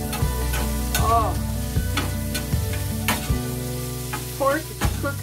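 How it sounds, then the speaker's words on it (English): Pork frying in a pan, crisping up: a steady close sizzle broken by repeated knocks and scrapes of a stirring utensil roughly every second, with no voices. "pork is cooking up nice, getting crispy"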